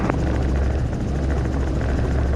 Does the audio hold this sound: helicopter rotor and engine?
yes